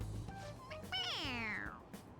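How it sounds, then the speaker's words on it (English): A squeezable toy cat in Persona 5 Royal lets out one clear, fairly close meow that rises and falls smoothly, with faint background sound around it. "It meows when you press on its head."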